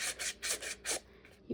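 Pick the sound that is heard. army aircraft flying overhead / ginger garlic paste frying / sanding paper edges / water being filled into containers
sanding paper edges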